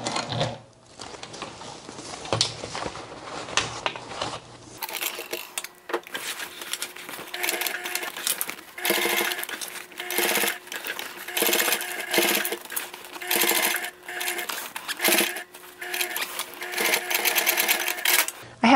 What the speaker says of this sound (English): I'm not sewing through the rubber foam on the front.